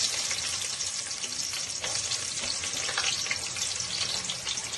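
Onions and green chillies fry in hot oil for a prawn biryani, a steady close-up sizzle with crackling and a stirring scrape, continuous and fairly loud with no voices.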